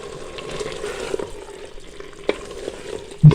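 Potatoes and minced meat are stirred in a hot pan for dhaba-style aloo qeema, giving a soft, steady sizzle with scraping stir sounds and a sharp clatter at the end.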